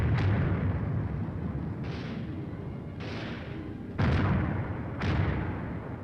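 Several heavy booms from a 4.2-inch mortar platoon laying down a barrage, about five loud blasts spaced roughly a second apart, each with a sharp onset and rumbling decay over continuous low battlefield rumble.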